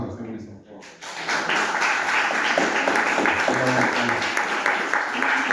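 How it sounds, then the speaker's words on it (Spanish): An audience applauds Mr. Wilson at a book launch for "Lima: Ciudad de los Reyes", a steady dense wash of clapping that swells after a brief quieter moment and carries on beneath a voice. "un fuerte aplauso al señor Wilson, por favor"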